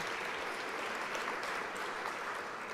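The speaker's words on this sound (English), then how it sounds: "Let's give them a round of applause" Audience applause fills a general session room after panelists are introduced, a steady dense wash of clapping at moderate level throughout without a break.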